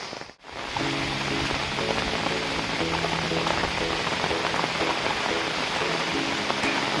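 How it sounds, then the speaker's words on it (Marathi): Rain pours steadily at Karnala Fort, a hill fort near Panvel, making a constant broad hiss of drops striking surfaces that holds at an even, moderately loud level throughout. "गडावरचा पाऊस"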